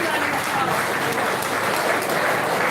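Audience applause at a two-day police command security seminar in Ogun, a steady dense wash of clapping from a large crowd, loud and continuous throughout with no voices over it.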